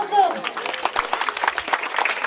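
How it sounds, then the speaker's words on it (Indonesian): Crowd applause at the inauguration of a neighbourhood sports field, a burst of scattered clapping over steady crowd noise, moderately loud and close, with a voice briefly audible at the start. "Sekali lagi kita beri tepuk tangan untuk"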